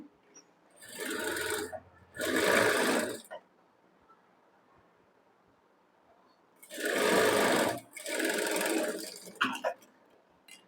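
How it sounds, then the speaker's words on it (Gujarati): A sewing machine stitches a princess cut blouse in two pairs of loud, steady runs, each lasting about a second, separated by a long quiet pause. "હવે આપણે સૌથી પહેલા એક સેન્ટર પર મોટી સિલાઈ લગાડવાની છે, એટલે કાપડ બંને સાઈડથી એક સરખું રહે."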